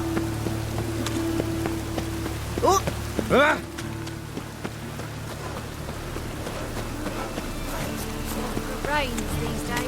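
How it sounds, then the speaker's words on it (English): Rainfall in The Witcher 3: Wild Hunt, a steady patter on surfaces that runs the whole way, with a low hum beneath and people talking over it. "Rains these days."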